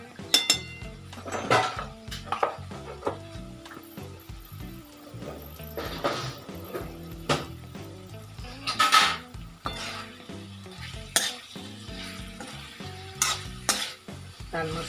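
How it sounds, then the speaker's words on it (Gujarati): A spoon stirs carrot and capsicum sabji with red chilli powder as it sizzles in a pan, with repeated scraping strokes and metallic clinks over a steady frying hiss, close and fairly loud. "નાખીને આપણે હલાવી દઈએ."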